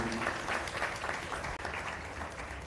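An audience at a sales masterclass workshop claps in a dense, sustained round of applause that holds steady throughout.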